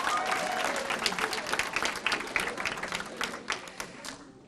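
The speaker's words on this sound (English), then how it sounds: "Give yourselves a round of applause" A large audience at a mock trial competition claps in a sustained round that gradually tapers off, with scattered individual claps near the end.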